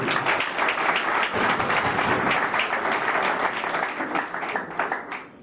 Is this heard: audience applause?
yes